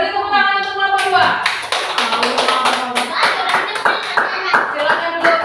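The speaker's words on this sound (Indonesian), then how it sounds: "beri tepuk tangan untuk kelompok 2" Applause for a student group in a junior high classroom rises into steady clapping from many hands, with a teacher's voice speaking over the start.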